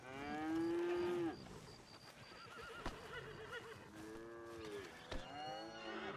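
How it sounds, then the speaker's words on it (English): Cows moo in a farming and ranching video game, a long loud low moo followed by several more overlapping moos and animal calls, close and clear with no talk. "This one's your cows."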